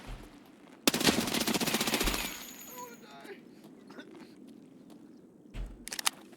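Bursts of automatic gunfire from a gun in a VR shooter game: a loud rapid burst of about a second and a half, then quiet game ambience with small clicks, and a short second burst near the end.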